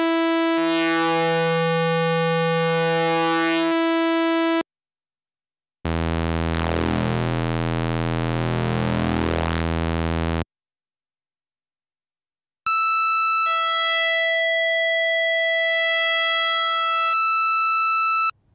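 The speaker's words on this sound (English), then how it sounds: "In sawtooth, that sounds like this." A Korg Monologue analog synthesizer oscillator set to a sawtooth wave plays three loud, sustained buzzy tones at different pitches, separated by short silences.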